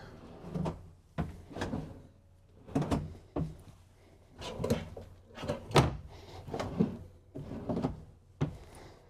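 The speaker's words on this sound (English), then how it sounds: "And then you're gonna have 5 drawers that are pretty deep in there." Deep drawers in a 2024 Newmar Dutch Star 4081 RV sliding open and shut in quick succession, about eight or nine thudding slides and knocks close by, with quiet gaps between them.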